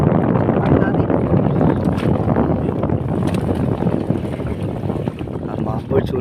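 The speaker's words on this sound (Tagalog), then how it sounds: "Medyo lumalakas na yung hangin dito." Strong wind of the amihan monsoon season roars steadily and loudly across the microphone by the water, a dense, continuous rush with no break.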